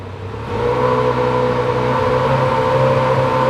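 A 2019 Benelli TRK502 motorcycle on its stock exhaust, heard up close as the engine lifts from idle into a steady, loud rev and holds a droning hum.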